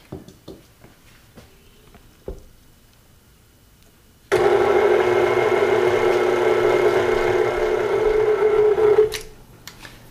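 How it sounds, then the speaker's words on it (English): A KitchenAid stand mixer runs at low speed through sugar cookie dough, a steady close motor hum with a rhythmic churning that starts abruptly after a few faint clicks and stops cleanly near the end. "Start out mixing it really slowly so the flour doesn't go all over the place."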